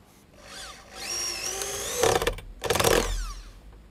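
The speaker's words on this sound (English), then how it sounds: "Pre-drill your holes, otherwise you'll just end up splitting your wood." A power drill whines up to speed and pre-drills holes into pallet wood in two loud bursts, the motor pitch rising then grinding as the bit bites.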